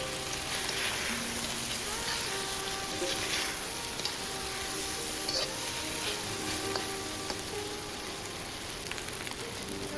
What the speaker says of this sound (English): add the garlic bolts and potato back into the pan